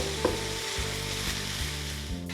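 Aromatics sizzle steadily in a hot pan for an elk burger, a close, continuous frying hiss with a few soft stirring knocks.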